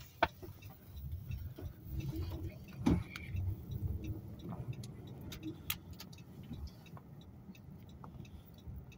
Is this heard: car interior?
yes